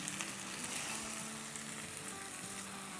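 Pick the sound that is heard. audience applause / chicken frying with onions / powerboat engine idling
chicken frying with onions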